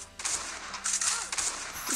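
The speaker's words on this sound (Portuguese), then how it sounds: "É esse tiro disparado aqui pra acertar todo mundo" Gunfire while shooting zombies in the survival game Last Day On Earth runs as continuous crackling shots with hissy bright bursts, steady and fairly loud under background game noise.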